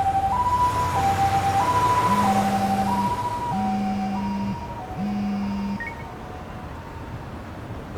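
An ambulance siren from the video game Lost Judgment wails in a two-tone hi-lo pattern, joined by a lower horn-like tone, loud at first then fading as it moves away.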